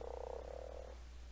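A frog croaks in ARK: Survival Evolved, a low buzzing, pulsing call for about a second that then stops, leaving a quiet game hum.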